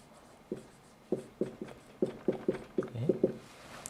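Chalk or marker writing on a lecture board gives a run of quick, short scratching strokes in an uneven rhythm, close and clear, with no one talking.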